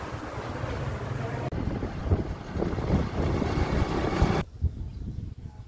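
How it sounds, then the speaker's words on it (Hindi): Steady air from a ceiling fan buffets the microphone, a continuous rumbling wind noise that stays loud for most of the stretch and then drops away sharply near the end. "पंखा लगा हुआ तो हवा चल रही है।"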